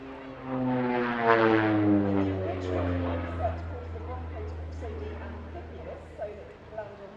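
A North American Rockwell Bronco twin-turboprop aircraft passes at a seaside airshow with a steady droning propeller hum that swells and then lingers. A commentator talks continuously over the engine.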